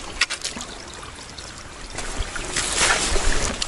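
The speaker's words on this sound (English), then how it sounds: "So I'm going to cross this creek here" Footsteps splash through a creek in waterproof shoes on a lake hike, producing irregular sloshing and trickling water that grows louder and denser toward the end, with no one speaking.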